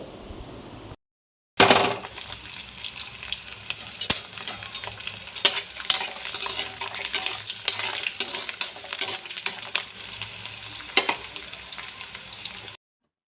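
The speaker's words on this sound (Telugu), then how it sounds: "ఈ పసుపు వెల్లుల్లిపాయలు కూడా కొంచెం బాగా వేగనివ్వండి" Garlic, turmeric, mustard seeds and cumin fry in hot oil, a steady close sizzle with crackling pops and scraping stirs, starting after a brief gap.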